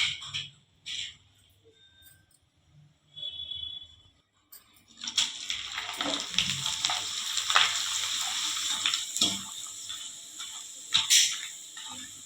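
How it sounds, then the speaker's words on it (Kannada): Potato chips frying in hot oil for a home-cooked meal: after a few quiet seconds with scattered knocks, a dense, steady sizzle takes over and stays loud and close. "ಚಿಪ್ಸ್ನ ಫ್ರೈ ಮಾಡ್ತಾ ಇದ್ದೀನಿ"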